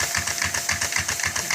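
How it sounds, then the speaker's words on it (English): A Lego engine built in the mid-1990s with no external valves or linkage, running on air pressure from a hairdryer, gives a fast, steady knocking chatter over the hairdryer's continuous whooshing rush, fairly close and loud, with no voices. "This is an engine that my brother built in the mid-90s"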